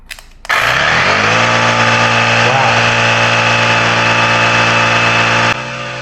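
A portable air pump, either an AUXITO A502 or a RYOBI, starts after a short quiet moment and runs with a steady, loud mechanical drone and vibration, then cuts to a lower hum near the end.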